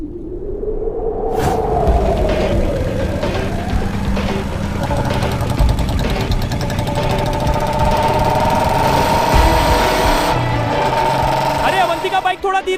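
A motorbike engine runs loudly and close, a rough rumbling drone that rises in pitch as it revs and then holds steady throughout.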